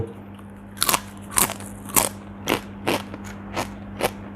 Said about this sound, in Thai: ลองแคบหมู